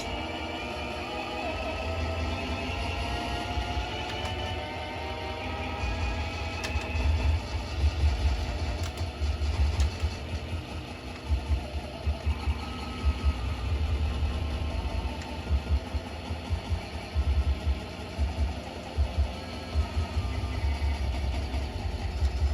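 A motorcycle engine in a Star Wars arcade driving game drones continuously with low rumble, rising revs and throttle bursts toward the end; it sounds synthetic, like game audio.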